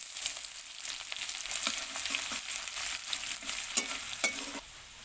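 Chickpeas fry in a pan with dried chillies, giving a steady sizzle broken by repeated scraping stir strokes.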